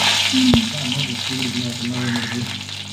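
Mustard seeds, fenugreek seeds and dried red chillies crackle and sizzle in hot oil, with a sharp pop near the start and a voice talking over the frying.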